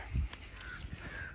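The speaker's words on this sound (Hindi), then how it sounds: "उसे ईंट का कौवा बोल रहे हैं, जंगल का कौवा" A jungle crow caws out in a wheat field during irrigation, a short, loud harsh call near the start followed by fainter, rougher calls over low outdoor background noise.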